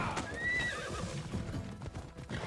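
Horse hooves clip-clop in the Assassin's Creed Odyssey video game, a quick run of close, rhythmic hoofbeats over a rumbling game background, with a brief whinny near the start.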